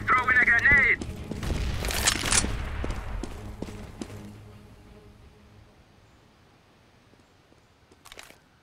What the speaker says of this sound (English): I am throwing smoke. I am throwing a grenade.